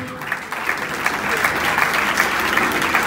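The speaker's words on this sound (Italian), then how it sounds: "li accogliamo con un grande applauso." Audience rising to applaud a dance couple before their slow waltz show, with steady, full clapping building from a thinner start and continuing throughout.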